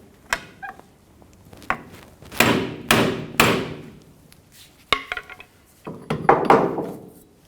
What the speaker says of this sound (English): Using a pry bar and a hammer, we're going to separate the CV joint.